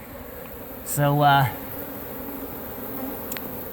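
Honeybees swarm and buzz during removal of a hive from a mobile home in Lakeland, Florida, a steady close drone throughout, with a brief loud spoken word over it.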